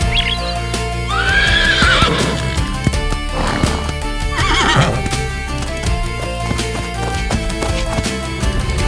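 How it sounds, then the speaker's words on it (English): A horse whinnies with a rising, ringing neigh, then hooves clip-clop at a gallop, loud and close over a steady background for about nine seconds. "With the lady, he fled on the golden horse."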